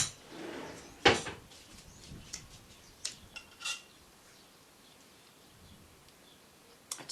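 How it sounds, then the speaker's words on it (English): Kitchen utensils clink while a spoon is fetched and pans are handled during cooking, a few sharp metallic knocks and scrapes scattered across a quiet background. "let me just get a spoon and test the seasoning"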